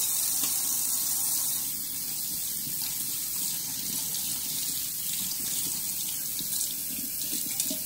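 Running water rinses a tumbler being washed down with dish soap, a steady close splashing stream that runs without break and shifts slightly as the cup moves under the flow.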